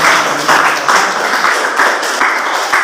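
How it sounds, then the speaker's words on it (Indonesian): A group of students applaud in a university teaching session, loud close clapping that pulses in rhythmic bursts of roughly half a second, with no speech over it. "Kita kasih tepuk tangan buat yang sudah menjawab"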